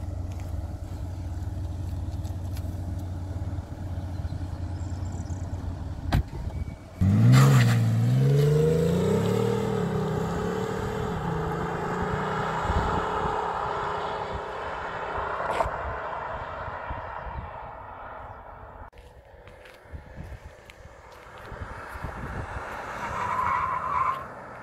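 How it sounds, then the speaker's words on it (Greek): A diesel BMW X7 M50d with 400 horsepower accelerating hard, a loud engine note rising in pitch from a launch, with tyre noise and a sustained pull that holds steady then fades slightly, no talk. "Πάμε να κάνουμε μια επιτάχυνση."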